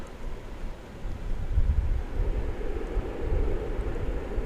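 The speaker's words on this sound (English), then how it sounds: "An Airbus A321." An Airbus A321 rumbles at DFW Airport, a broad low roar swelling slightly after the first second and holding steady, carried alongside breezy wind buffeting on the microphone.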